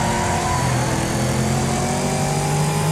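Race car engines in the racing game Wreckfest drone and rev loudly and continuously, with a rising engine pitch and no talk.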